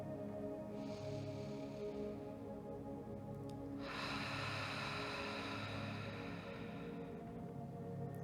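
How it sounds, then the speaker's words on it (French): Ocean breath, a slow exhale through the mouth with an audible hushing rush, heard twice: a softer breath first, then a longer, fuller one over a steady low hum of calm ambient music. "Inspire du nez. Et expire par la bouche en faisant un son."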